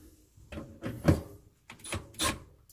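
A kitchen sink cabinet door being adjusted with its hinge bolts is shut several times, giving a handful of close, dull knocks and soft thuds spread out at uneven intervals, with no talk.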